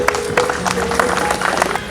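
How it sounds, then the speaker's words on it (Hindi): An audience at the Delhi Star Award ceremony breaks into loud, brisk applause, a short burst of many hands clapping with crowd murmur mixed in. "जोरदार तालियों से इनका अभिनंदन करें।"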